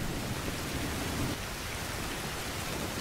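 Steady rain hissing in a volcano biome of the video game Fountain of Youth, a dense even wash of drops with a low rumble of thunder in the first second, moderately quiet and with no voices.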